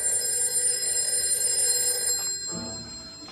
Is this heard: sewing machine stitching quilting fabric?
no